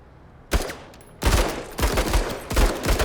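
Gunfire from blind firing in the tactical video game Menace, four loud bursts of shots at roughly even intervals, each sharp onset trailing into a dense rattling tail, with no talking.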